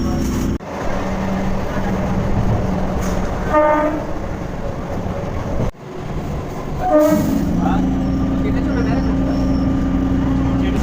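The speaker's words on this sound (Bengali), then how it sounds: "ট্রেন এই মুহূর্তে এসে পৌঁছালো উত্তর চব্বিশ পরগনার শ্যামনগর" A local train pulls into Shyamnagar station in North 24 Parganas, West Bengal, with a loud continuous rumble and rattling wheels, a horn sounding twice, and voices talking over the noise.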